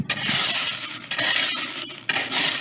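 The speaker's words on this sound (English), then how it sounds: "That one ripped my bag." A plastic bag rips and crinkles in loud, bright bursts of tearing rustle with short pauses between them, close up and with no talking.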